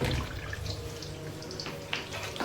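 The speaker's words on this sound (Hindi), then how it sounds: "हाथ धो लेती हूँ।" Hands washed under a running kitchen tap, a steady close rush of water with soft splashes and a brief louder splatter, no talking.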